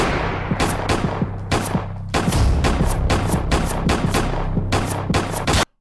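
Gunshots ring out in a music video, a loud, steady string of sharp separate cracks, roughly two or three per second, close and dry, stopping abruptly at the end.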